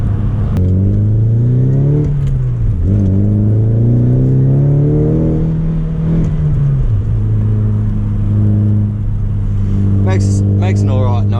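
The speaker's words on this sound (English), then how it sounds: "Makes an alright note though for the stock SR with a bit of an exhaust system on it." A Nissan Silvia S15 Spec R with a stock SR engine and an aftermarket exhaust, heard from inside while driving, its engine note climbing and falling through the revs, loud and close and continuous.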